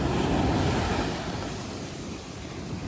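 Sea waves wash onto an eroded, collapsing shore in a continuous roaring surge that starts loud and eases slightly, with no voices over it.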